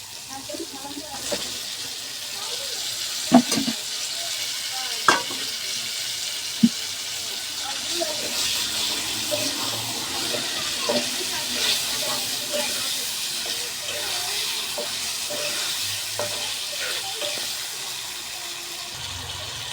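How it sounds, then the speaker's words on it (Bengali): Loitta fish fry with spice paste in a pan, giving a steady soft hiss of frying with occasional clinks and knocks of a utensil, while someone talks over it. "দুটো মাছটা দিয়ে সুন্দর করে এখন কষে নিচ্ছে"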